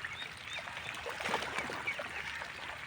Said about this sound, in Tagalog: ganyan pala ang pagkain ng mga itik. Agawan sila.